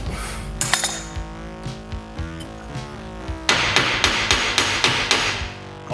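A hammer taps the steering knuckle of a Proton Impian to free the track rod end. Repeated close, sharp metallic knocks ring out, spaced at first, then a quicker, louder series of evenly timed strikes.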